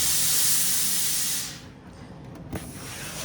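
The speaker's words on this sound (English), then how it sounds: "I have the steam sucking through my material" LauraStar steam iron releasing a loud, steady burst of steam into quilting fabric for about a second and a half, then stopping, leaving a quieter background with a small knock.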